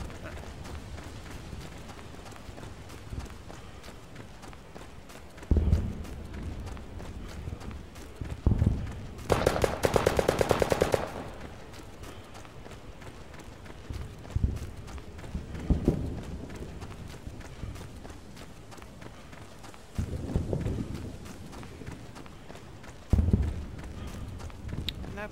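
Horse hooves clop in a World War II era battlefield video game, with irregular bursts of hoofbeats, one loud crackling burst partway through, and talk over the game sound.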